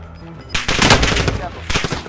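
Loud, close bursts of automatic gunfire from the video game Call of Duty Modern Warfare hammer out in two quick volleys after a quiet start, with a voice faintly audible before them.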